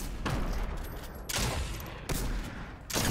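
Shotgun blasts in the Fortnite video game, fired at opponents after sprinting: three loud, broadband bursts spaced roughly a second apart over a steady background of game noise.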